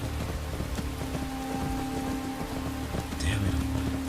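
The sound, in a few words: rain falling in Skyrim video game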